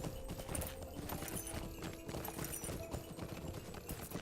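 Horse hooves clip-clop at a steady, brisk gait in the Lord of the Rings Online video game, a continuous run of rhythmic hoofbeats mixed with ambient game sound, fairly quiet overall.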